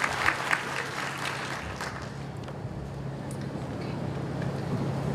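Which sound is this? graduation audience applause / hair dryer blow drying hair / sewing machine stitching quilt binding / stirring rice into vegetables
graduation audience applause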